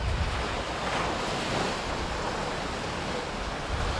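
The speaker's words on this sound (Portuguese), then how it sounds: "Olha como é que tá o mar aqui, ó." Small surf breaking at a beach in Rio de Janeiro, a steady broad wash of waves with wind rushing across the microphone, continuous and fairly loud with no talk.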